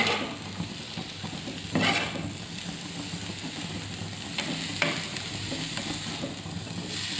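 Spinach and other green vegetables for urap are stirred in a hot pan, giving a continuous close sizzle with scraping strokes and a couple of louder utensil scrapes, no voices.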